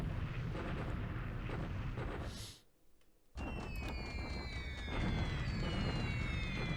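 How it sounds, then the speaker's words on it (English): Heavy bombing in the War in the Pacific strategy game, a dense roar of explosions with a brief near-silent gap, then the roar resumes and rising aircraft engine whines sweep across it. "bombing continues on this little fragment"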